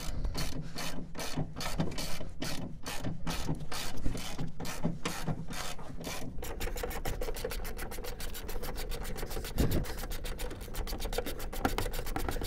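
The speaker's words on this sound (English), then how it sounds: "you can grab a ratchet and just start taking it off" Hand ratchet backing a bolt off a Mazda 3 lower control arm, a fast run of sharp pawl clicks that shifts midway into a denser, steadier clicking rattle, close and loud with no talk.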